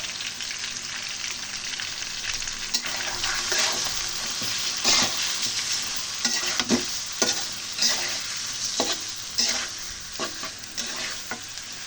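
Onion paste and garlic paste frying in a pan where large prawns are cooking with coconut, a loud crackling sizzle broken by frequent sharp stirring scrapes, close up with no voices.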